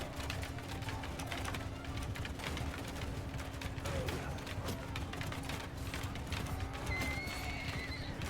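Horses whinny and hooves clip-clop amid a steady battlefield din in Mount & Blade II: Bannerlord, the neighs faint and buried under continuous background noise and a low hum.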